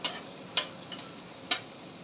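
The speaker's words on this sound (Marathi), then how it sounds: "ह्या तेलातच अजून लसूण एक मिनटं आपल्याला परतून घ्यायचं आहे हे बघा तेल ऑलरेडी उकळत आहे" Garlic frying in hot, already bubbling oil, giving a soft steady sizzle with three brief sharp crackles spaced across the stretch, with no talk.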